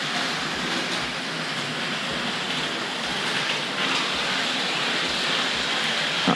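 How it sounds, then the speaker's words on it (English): Model Deltic locomotive running on a model railway, a steady rushing whir with regular rhythmic clicks as it travels along the track. "That Deltic always sounds like it's off the rails to me."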